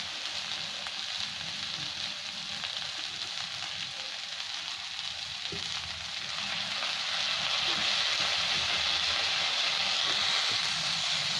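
Street-style chowmein stir-frying with soy sauce and chowmein masala: a dense, continuous loud sizzle of frying noodles that holds steady throughout and grows slightly stronger toward the end, with no talking.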